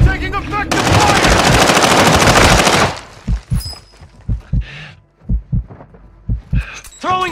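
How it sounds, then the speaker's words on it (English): Video game firefight with a sustained burst of rapid automatic gunfire, followed by a series of separate heavy thumping shots, loud and close, with voices calling out during the action. "Taking effective fire!"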